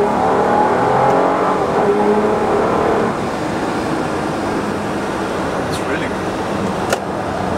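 A Bentley Bentayga drives around the Red Bull Ring, its engine and road noise forming a steady loud roar from inside the cabin, with people talking over it throughout.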